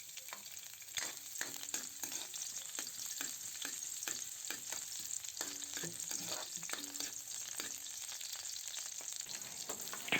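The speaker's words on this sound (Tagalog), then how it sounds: "Painitin lang natin ito at ilagay na natin ang hiniwang bawang." Sliced garlic frying in hot oil for dinuguan, a continuous crackling sizzle with repeated spatula stirring taps and scrapes, close and fairly quiet throughout.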